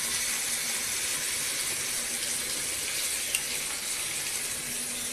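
Potatoes and spices with ginger-cumin paste and turmeric frying in oil, giving a steady, even hiss of sizzling with no other sounds.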